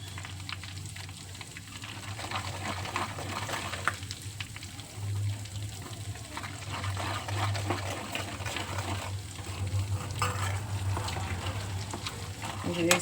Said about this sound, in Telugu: నూనె బాగా వేడిలో ఉంటుంది కదండి. ఇప్పుడు స్టవ్ ఆఫ్ చేసుకొని ఈ మసాలా కొట్టాం కదా, మసాలాని యాడ్ చేసుకుందాం